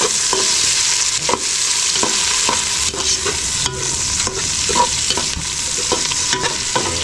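Garlic and onion fry in a pan for a home lunch, giving a steady loud sizzle broken by repeated scraping stirs of a spatula, with no talking.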